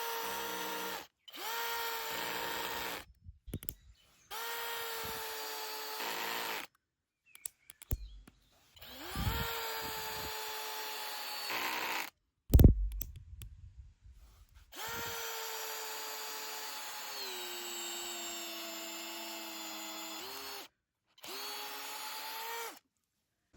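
A Parkside Performance C4 cordless drill on speed 2 driving a 14mm bit, running in a series of loud, steady whining bursts separated by short pauses and brief clatter.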